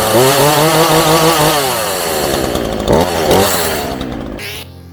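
A chainsaw runs loud and close, its whining engine pitch shifting up and down as the throttle changes, fading slightly near the end.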